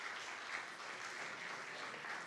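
An audience at a live short-film festival event claps steadily for prize-winning students, a soft, even patter of applause heard from some distance.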